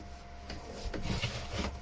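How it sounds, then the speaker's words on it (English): Close-up hand sanding on wood, a few short rough rubbing strokes with soft scratchy texture, quiet and unhurried. "It won't take much sanding to get rid of that."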